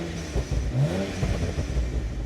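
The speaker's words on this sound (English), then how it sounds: "It's my turn now for some in-car POV burbles" From inside the cabin, a BMW N54 twin-turbo engine revs and burbles in a short, close burst, the low rumble rising and dropping with popping crackle.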